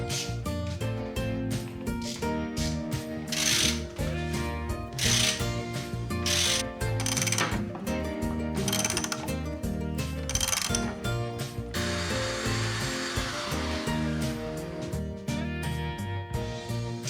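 A reamer cuts into a Shovelhead motorcycle engine part with a steady, dense mechanical ratcheting and grinding that runs loud and continuous throughout, no talking.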